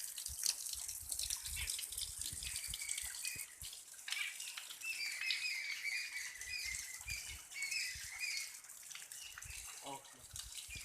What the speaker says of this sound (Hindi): आप देख रहे हैं मेरे पीछे जो निर्जर झरना बह रहा है।